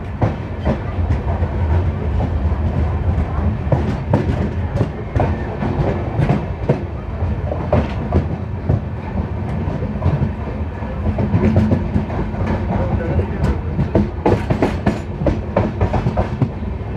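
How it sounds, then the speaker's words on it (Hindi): Passenger train, the Telangana Express, rolling along the tracks, heard from inside as a continuous loud rumble with steady clickety-clack from the wheels over rail joints, no talking. "हमारी ट्रेन चल चुकी है"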